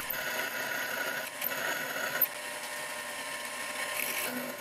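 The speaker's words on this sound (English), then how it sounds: "The drill cut pretty smoothly and I wasn't sure if any lubrication was necessary" A twist drill bores a hole into a custom die held on a Proxxon PD 250/e lathe with a dividing head, producing a steady whirring motor hum with faint cutting noise and a couple of brief clicks.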